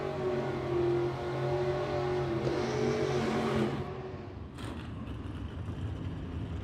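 Drag racing cars, a Beretta and a Monza in a Super Pro bracket race, roar loudly and steadily for several seconds, then the engine noise cuts back abruptly to a lower rumble.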